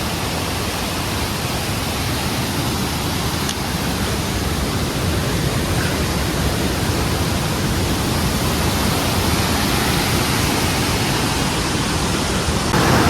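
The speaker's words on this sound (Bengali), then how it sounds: "এখন পর্যন্ত আমরা পুরো রাস্তায় যে পানির শব্দগুলো শুনে আসছিলাম এটাই সেই" A river rushing along the Poon Hill trek in Nepal gives a steady, loud, even roar of flowing water that holds constant for the whole stretch, with no voices.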